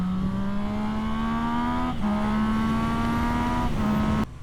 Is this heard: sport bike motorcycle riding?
yes